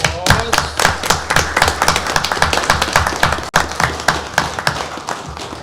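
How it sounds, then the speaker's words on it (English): A council meeting audience applauds the state champion soccer team, with steady dense clapping lasting throughout, fairly close and loud, with a few scattered voices mixed in. "Let's give them a round of applause."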